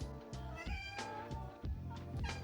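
A cat meows in a few repeated, tonal cries layered over a steady musical backdrop, fairly close and clear.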